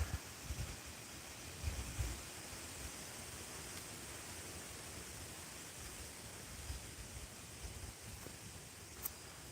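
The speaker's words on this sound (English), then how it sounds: "Man, the wind is a rocking" Wind blows outdoors as a constant soft hiss, with low buffeting thumps against the microphone that are strongest in the first couple of seconds and then settle into a fairly quiet, even rush.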